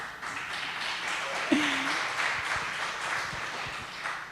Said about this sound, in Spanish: Yo ya casi pediría un aplauso.